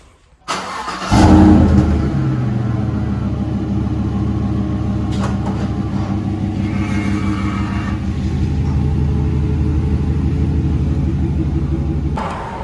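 A 2014-2018 GMC Sierra truck fitted with a Borla catback exhaust cranks and fires up after a second of quiet, then settles into a loud, deep, steady idle rumble close by, with a slight swell near the end.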